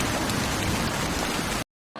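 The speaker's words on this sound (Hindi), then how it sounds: "ये देखिए मूसलाधार बारिश है ना, इतना भयंकर सा, लेकिन बहुत ही खूबसूरत।" Heavy torrential rain pours in a dense, loud, unbroken roar, cut off abruptly into silence before briefly resuming at the very end.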